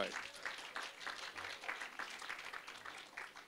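Faint, distant applause from an audience at a middle school topping-out ceremony, a steady wash of scattered clapping at low level with some voices mixed in.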